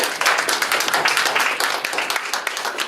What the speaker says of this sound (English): Let's give a round of applause for our candidates.